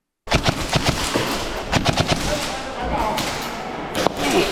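Airsoft M4 rifle shots in an exchange of fire at a pistol-field airsoft arena, a rapid series of sharp cracks and snaps in clusters, fairly close, over a busy, noisy background.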